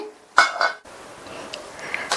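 A sharp clink of dishes, then a brief scrape and clatter as cooked ridge gourd stir-fry is moved onto a plate, followed by faint light taps.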